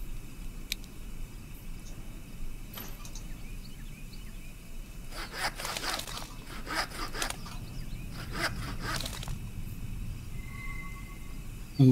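Several short bursts of a saw rasping through wood in the hidden-object game Connected Heart: The Musketeer Saga, each a quick back-and-forth scrape, fairly faint over a quiet background.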